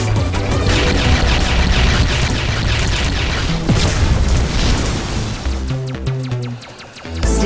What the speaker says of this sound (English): Explosions are incredible.